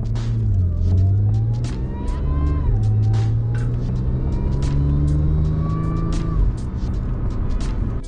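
Audi B8.5 S4 with a DSG transmission pulling away on the road from inside the cabin, with a low rumbling engine note that rises and falls through gear changes and steady acceleration for several seconds.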